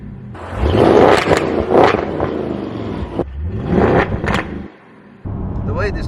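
A Bevo Tuning-tuned Audi S8 D4 gives loud, surging engine revs while driving, with repeated bursts of acceleration and a brief lull before the engine picks up again. Some talk may be mixed in.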